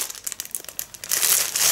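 A plastic packaging bag from a tracksuit being crumpled by hand, crinkling steadily at close range and growing louder and denser toward the end, with no voices.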